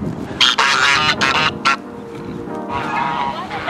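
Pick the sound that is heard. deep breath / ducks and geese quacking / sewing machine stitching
ducks and geese quacking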